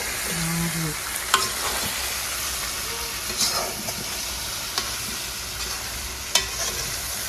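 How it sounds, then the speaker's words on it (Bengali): Raw mango pickle is stirred in a hot pan, giving a steady close sizzling hiss with a few sharp scrapes and taps of the spoon scattered through it and a brief low hum near the start. "এখন সবকিছু ভালোভাবে নাড়িয়ে নেব।"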